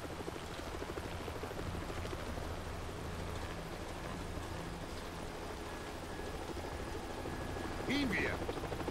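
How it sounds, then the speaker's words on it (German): Helicopter in the shooter game Haze arriving for a pickup: a steady, low rotor drone rumbles continuously beneath a game soundscape, with a short rising tonal effect near the end. "Ein Hubschrauber wird uns abholen."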